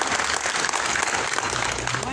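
Crowd applause at a swearing-in ceremony in a Oaxaca community, dense steady clapping filling the whole stretch, with a voice talking over it.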